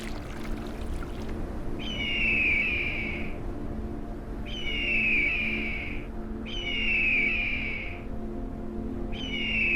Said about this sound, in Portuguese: É a voz da águia pescadora africana, uma ave de rapina típica das regiões de água doce da África